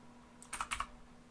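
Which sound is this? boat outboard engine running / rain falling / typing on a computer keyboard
typing on a computer keyboard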